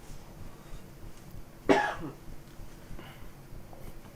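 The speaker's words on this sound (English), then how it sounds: "We have to take a pause here to cough." A single sharp cough from a radio show host in a studio, loud and close, breaking a quiet background.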